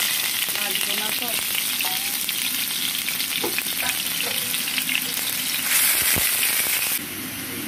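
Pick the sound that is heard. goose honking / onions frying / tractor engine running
onions frying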